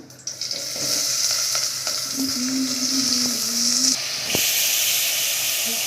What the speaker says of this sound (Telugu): హీట్ అయిన తర్వాత కట్ చేసుకున్న ఉల్లిపాయ ముక్కలు యాడ్ చేద్దాం